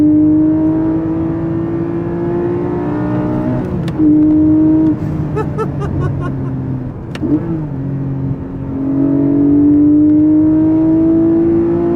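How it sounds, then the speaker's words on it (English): A Porsche 718 Cayman GTS 4.0's 4-liter flat-six engine revs hard, dropping briefly between gear changes with sharp clicks, then building again to a loud sustained howl. "There's that 4-liter flat six checking in."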